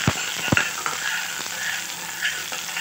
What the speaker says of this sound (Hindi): उसके जीरे के साथ साथ हम इसमें गार्लिक डालेंगे, इसको हल्का ब्राउन कर लेंगे।